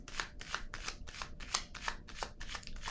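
Tarot cards shuffle in a brisk, even rhythm of close, crisp riffling strokes, about eight or nine in a row, with no talk over them.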